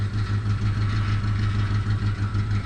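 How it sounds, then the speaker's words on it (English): Ford Ranger pickup truck engine idling steadily up close, its exhaust giving a rough, uneven burble with a strong low hum and pulsing beat throughout, no voices. "I'll let it run for a little bit. That exhaust sounds really weird."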